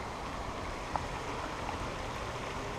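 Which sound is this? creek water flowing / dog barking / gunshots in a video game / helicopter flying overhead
creek water flowing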